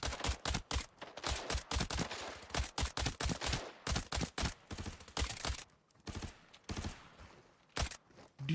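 Rapid gunfire in the Arena Breakout video game, loud sharp shots fired in fast strings and short bursts with brief pauses, close and dominant throughout.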